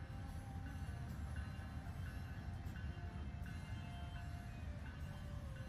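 A passing train in American Truck Simulator rumbles steadily with a low roar, with faint repeating clicks and tonal squeals riding on top throughout.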